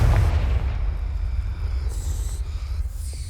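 A Confringo fire spell explodes in Hogwarts Legacy, a deep rumbling boom that rolls on heavily in the low end and slowly fades, with no talk over it.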